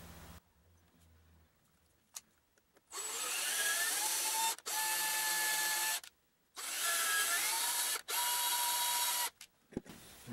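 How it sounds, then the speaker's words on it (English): A power drill taps threads into soft metal, whining in sustained bursts that rise and fall in pitch, with short pauses and clicks between runs, close and loud with no one speaking. "I'm going to go ahead and use my drill."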